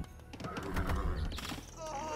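A horse neighs and whinnies amid the busy clatter of a medieval real-time strategy battle in a video game, with layered unit and combat sounds underneath, steady and moderately loud throughout.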